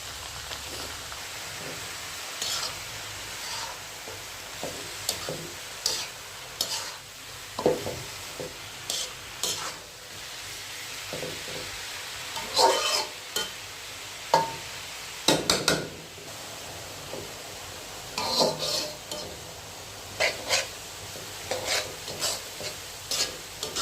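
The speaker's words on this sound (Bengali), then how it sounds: "নেডুস পাতা সালাদ খাই যে, সেই পাতাটা দিয়ে আমি ভাজি করতেছি" Nedus leaves being fried and stirred in a pan, with a soft steady sizzle broken by repeated clattering scrapes and stirring knocks near the microphone, no talking.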